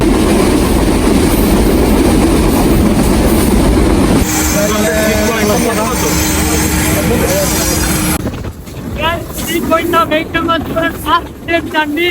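A passenger train runs on the Mirpur to Jessore route in Bangladesh, its loud continuous rumble and wheel noise rolling throughout, with a brief squeal and chattering voices nearby toward the end.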